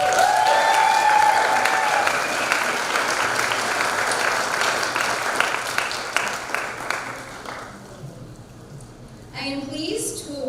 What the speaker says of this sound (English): Please give a round of applause for Corazon Folklorico